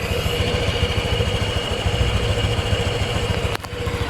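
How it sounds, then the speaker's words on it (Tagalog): A Honda Click 125i motorcycle idles close by, a steady, smooth and fairly quiet engine hum with a low, even throb. It runs alone throughout, with one brief dip near the end. "tambutso ay hindi ganun kaingay so napaka smooth ng kanyang andar"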